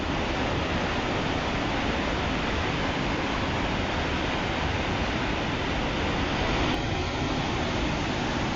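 Unchalli waterfall roaring in the monsoon, a dense, loud, unbroken rush of falling water that fills the whole scene at a steady level.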